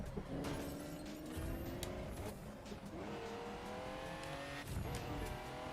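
A McLaren car in GTA Online races along with a steady engine drone, occasional revving and tire squeals, plus sharp in-game clatter and impacts, heard at moderate level without talk.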